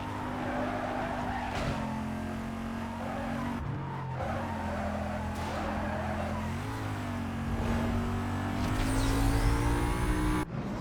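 A Noble M600 racing in Need for Speed Most Wanted, its engine droning loud and steady through high gears with shifting pitch and occasional tire squeal, no voices.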